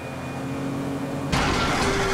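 In GTA V, a boat's steady motor hum suddenly gives way to a harsh, louder sputtering engine roar with a grinding, strained tone as the engine fails.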